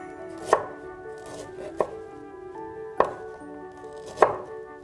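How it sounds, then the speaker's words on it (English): A knife cuts a thumb-sized piece of ginger into thin slices on a board, four distinct, evenly spaced chops with quiet pauses between them, close and clear with no talking. "I'm going to slice some ginger"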